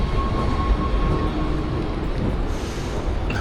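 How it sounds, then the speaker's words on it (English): An intercity train rumbles steadily nearby, a low continuous rolling noise with a faint high whine, no voices. "There's a train leaves at 2 minutes."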